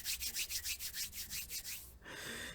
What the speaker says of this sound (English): That candy wrapper noise makes me laugh